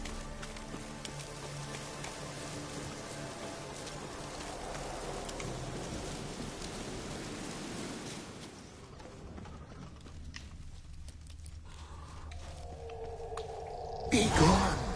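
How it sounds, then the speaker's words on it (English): Rain falling in The Witcher 3, a steady wash of patter with dense droplet texture, fading partway through before a brief louder burst at the end, with talking faintly present. "Looks like rain."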